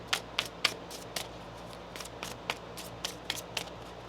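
Tarot cards shuffled by hand in a quiet room, a series of crisp, riffling card snaps at an uneven rhythm, close and moderately loud, with no talking.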